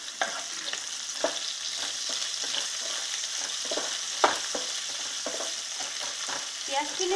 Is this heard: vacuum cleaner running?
no